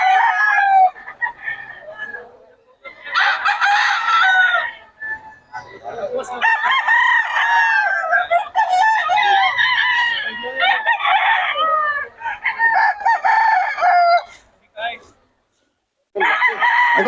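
Chickens in Bocaue, hens and roosters, crow loudly and repeatedly close by, with overlapping cock-a-doodle-doo calls and some clucking, and people talking faintly in the background.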